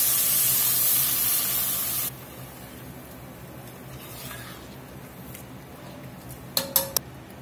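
Low sodium beef broth pours into a chili pot with a loud, hissing, spray-like rush for about two seconds, then stops; a few sharp clinks of a utensil against the pot follow near the end.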